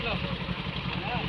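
A small boat's engine runs on the Jalangi River in Bengal before a river crossing, giving a steady, close, throbbing idle rumble throughout.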